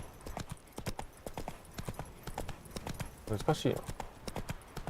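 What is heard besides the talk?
Geralt's horse Roach galloping, from video game The Witcher 3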